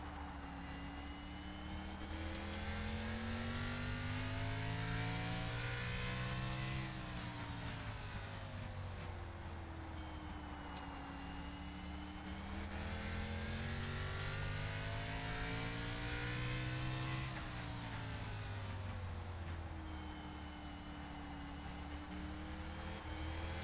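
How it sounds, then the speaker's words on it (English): Race car engine noise from a K&N Series racing video game at Martinsville, a continuous droning roar that rises and falls with throttle through the corners over more than twenty seconds, with no voices. "listen to his throttle and see how he works the wheel here"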